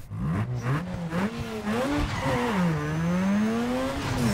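Car tires squeal loudly in Need for Speed Underground 2 while drifting, a sustained, wavering screech over engine noise that bends in pitch throughout.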